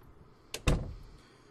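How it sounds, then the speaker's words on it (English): A door slams shut in the zombie survival game Project Zomboid, with a light click and then a loud, close wooden thunk that rings out briefly. "Let's shut the door behind us."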